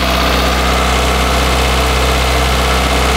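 A Peugeot 205 engine idles loud and close, a steady continuous rumble with constant vibration and no break from start to end.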